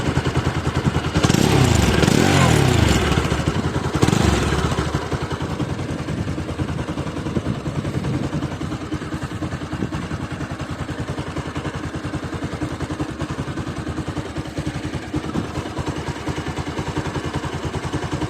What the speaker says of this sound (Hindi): इंजन का आवाज़ सुनते हैं।